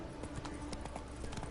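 Horse hooves trotting in The Witcher 3, a steady repeating clip-clop of footfalls, close and fairly loud, with no talk over it.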